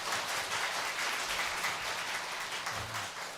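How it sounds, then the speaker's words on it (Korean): Church congregation giving applause, a faint, distant wash of steady clapping throughout with little else audible. "우리 박수 한번 해주시겠습니다"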